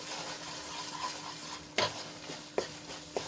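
A spoon stirs a thick gram flour and milk mixture in a pan with a soft sizzle underneath, marked by a few sharp scrapes and taps against the pan.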